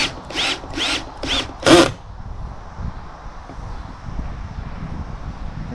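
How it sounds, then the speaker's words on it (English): Power drill with its clutch slipping while driving a screw during a bathroom cabinet build, five short loud ratcheting bursts in quick succession, followed by quiet wind-buffeted background. "Hear that kind of ratchet noise, that's allowing that thing to slip so it doesn't strip out your thread."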